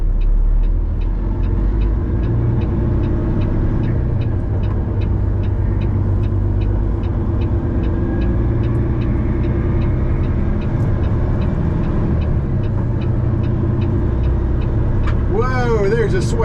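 Peterbilt dump truck driving, a loud, continuous low engine drone with rhythmic ticking from inside the cab, steady throughout, while a person talks over it and a brief squeal sounds near the end.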